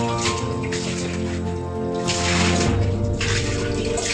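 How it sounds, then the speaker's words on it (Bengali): Water poured to rinse a toilet bowl after brushing it with homemade Harpic cleaner, a steady close splashing and gushing that surges in two or three bursts with brief lulls between. "তো এবার আমি জল দিয়ে পরিষ্কার করে দেবো।"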